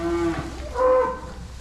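A dairy cow in a herd on a dairy farm during calving season lets out a single short moo, close and distinct, with a faint second call fading at the end.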